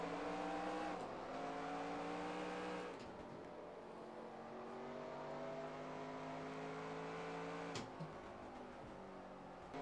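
Race cars in NASCAR Racing 2003 accelerate on a restart in a 1990 Busch Series race at Nazareth, their engine whine rising in pitch, then briefly dipping and climbing again, at a low, steady level.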